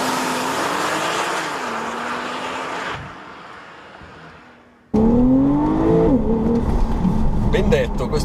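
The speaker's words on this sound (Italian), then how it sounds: "Questo motore ha una risposta all'acceleratore che è veramente eccezionale e allunga come una spirale." A Porsche 911 Targa 4 turbocharged flat-six engine, 370 hp, revs and accelerates, rising in pitch, then a sharp cut to a louder, harder acceleration with gear changes; speech occurs alongside.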